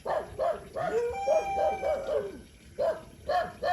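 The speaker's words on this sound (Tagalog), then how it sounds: "Maingay yung aso mga kababayan." A dog barks repeatedly in short yips, with a brief whining tone between barks, moderately close.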